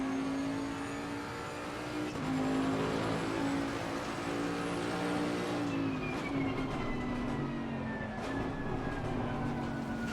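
Loud, sustained engine whine from a race car in Assetto Corsa Competizione holds high revs, then drops in pitch and climbs again partway through, like a gear change, with no voices.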